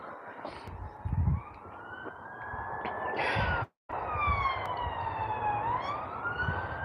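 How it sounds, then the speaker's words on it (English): Sirens wail in the distance with rising and falling tones, over steady traffic noise, near an old disused pit in South Yorkshire; one brief dropout midway. "If you can hear the sirens in the back"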